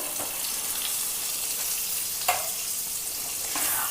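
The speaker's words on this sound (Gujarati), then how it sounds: "અને લોટને શેકી લેશું આ રીતના થોડું એવું ઘી બાદમાં ઉમેરવાથી એકદમ સરસ રીતના લોટ શેકાય છે" Flour roasts in ghee for farali sukhadi, giving a soft, continuous sizzle with a few light stirring scrapes scattered through.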